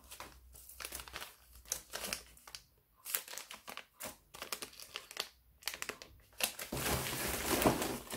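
Plastic packets from a parcel are crinkled and torn open up close, irregular bursts of crackling and rustling separated by short quiet gaps, building to a denser, continuous crinkle near the end.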